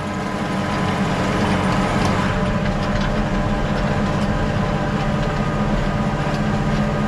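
Steady, loud engine drone of a New Holland T6.160 tractor rated at 200 horsepower pulling a Rolmako U436 cultivator in a field, a dense continuous rumble with clattering soil and implement noise and no talk.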